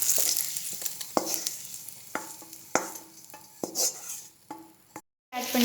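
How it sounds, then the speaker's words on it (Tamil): Coriander leaves sautéing in a pan for coriander chutney, with a soft sizzle under repeated sharp clinks and scrapes of a spoon stirring against the pan, close up and with no talking. "இப்போ கொத்தமல்லி நல்லா வதங்கிருச்சு."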